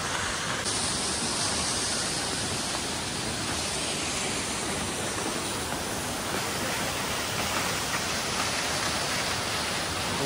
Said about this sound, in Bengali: Seven sister waterfall.